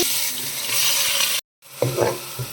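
Onion paste fries in oil with mustard seeds, fenugreek and cumin, a close crackling sizzle that drops out briefly, then returns with stirring scrapes.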